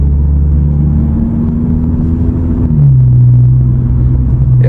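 An Audi with a DSG gearbox, recently repaired after a gearbox failure, reversing with a steady low engine rumble and a drone that drops in pitch partway through, loud and close with no talk.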